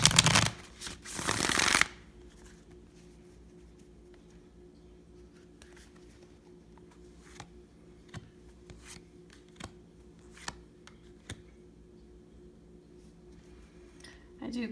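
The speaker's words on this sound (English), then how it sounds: "I do cut these cards off camera too, and I can kind of just see the shuffling" Tarot cards are shuffled in a loud, dense riffling burst lasting under two seconds, followed by quieter scattered card taps and rubs against a calm backdrop.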